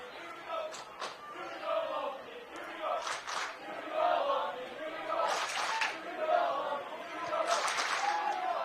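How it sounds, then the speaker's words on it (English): Crowd of Lone Peak supporters cheering their team at a boys high school soccer game, a steady distant roar with swelling shouts and a few louder bursts of cheering. "The Lone Peak faithful trying to cheer on their team"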